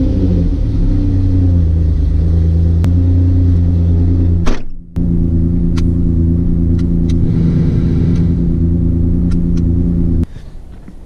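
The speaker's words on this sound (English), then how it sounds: "I'm not sure if you could hear over the sound of the truck running" A pickup truck with a 5.0 engine swap idling steadily, a loud constant low rumble with a brief break midway, then cutting off near the end.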